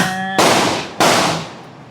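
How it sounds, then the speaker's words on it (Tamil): Two sharp, loud firecracker blasts burst close by during a rainy Diwali celebration, each a sudden crack that decays into a roaring, crackling tail, the first cutting off a steady hum. "மணிகண்ட வைக்கிறான் வெடி"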